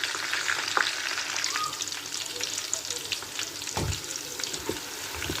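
Onions steaming and frying in a pot, a steady close sizzle with soft crackles and occasional stirring clinks running throughout.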